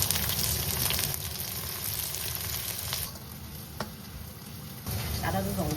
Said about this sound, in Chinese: 鍋裡面我們就倒入適量的食用油，把這個紅蔥頭放上去啊，